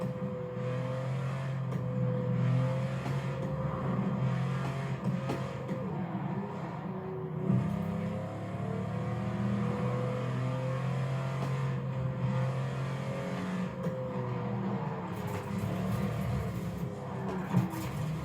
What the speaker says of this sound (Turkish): Egzoz patlatıyor ama egzozu görünmüyor arabanın.